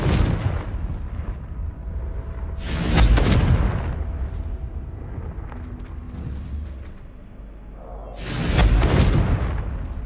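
Two loud, broadband fire-spell blasts from the Confringo charm in Hogwarts Legacy, one near 3 seconds and another around 8.5, each a booming whoosh over a rumbling game soundscape with no talk.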